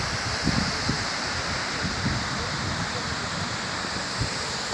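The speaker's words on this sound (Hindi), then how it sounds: "कितनी प्यारी हवा चल रही है।" Steady wind rushes and buffets across the open air of Neelam Valley, Kashmir. The broad, continuous roar carries faint gusty thumps against the microphone throughout.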